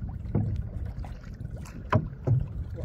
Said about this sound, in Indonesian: Jadi kita akan mendayung.